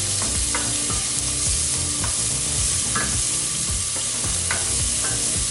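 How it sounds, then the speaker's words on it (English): Onions sautéing in butter in a frying pan give a dense, continuous sizzle with occasional scrapes and stirs, loud and close, with no talking. "And now I'm going to add some onions in. Get these to cook off nice."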